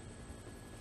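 A helicopter in the video game Dead Rising gives a steady, low, droning rotor rumble that fills the whole short moment, with no voices over it.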